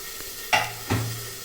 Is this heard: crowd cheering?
no